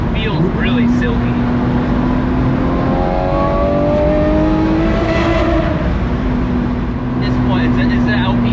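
A 2004 Lamborghini Murcielago engine pulls loud and steady from close by, its harmonics climbing as it accelerates without a break. Voices talk over it throughout.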